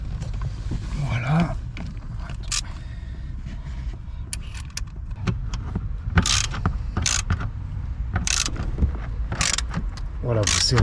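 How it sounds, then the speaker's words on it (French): Wrench tightening the front seat belt anchor bolt on a Peugeot 308, a series of sharp ratcheting clicks in short bursts over low background rumble, close by, with occasional speech. "vous serrez bien jusqu'à temps que ça bloque"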